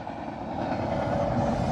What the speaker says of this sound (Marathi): हे बघा, अद्भुत नजारा कोकण रेल्वेचा.